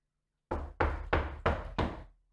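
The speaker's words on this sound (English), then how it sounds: "Sounds like someone's knocking." Five firm, evenly spaced knocks on a door, heavy and booming with a dull thud, close and loud with silence before and after.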